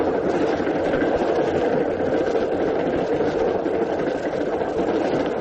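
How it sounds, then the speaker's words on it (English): Train rolling on rails at night as it pulls into a siding, a steady broadband rumble and rattle of wagons, loud and continuous throughout without talk. "Then your train pulls into a siding and stops."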